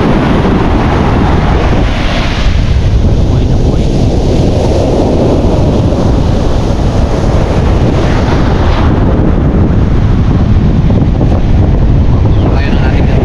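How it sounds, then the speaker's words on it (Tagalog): Big waves roll and strong wind blows at sea around a small fishing boat. The roar is loud and steady throughout, with heavy wind buffeting the microphone. "Ilang linggo na ganito kalalaki ang alon."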